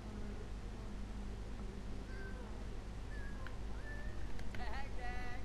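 Cat meowing in The Sims 4, a few short tonal mews scattered over a steady noisy background bed, growing busier near the end, with some faint talk mixed in.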